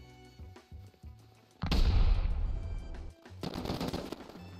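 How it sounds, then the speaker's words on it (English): A satchel charge explosion in a multiplayer base-raiding video game, a sudden loud blast with a long rumbling tail, followed by bursts of rapid gunfire, all fairly close. "Oh, that's a satchel charge."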